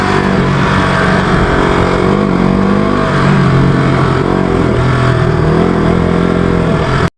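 KTM RC sport motorcycle ridden in second gear on an Indian highway, its engine droning loud and steady throughout with constant wind rush, no talk.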